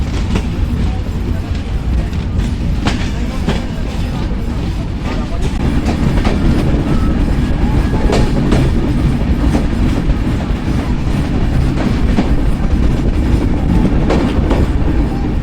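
Sagardari Express pulling out of Chuadanga station on a rainy afternoon. A loud, steady rumble of carriages with rhythmic clickety-clack of wheels fills the whole stretch.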